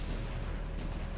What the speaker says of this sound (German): Da werden wir bombardiert.